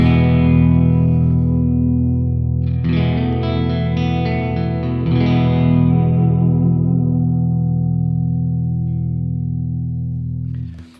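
Full, warm clean electric guitar chords with both pickups on ring out and sustain with a touch of reverb, strummed again mid-way, then slowly decay.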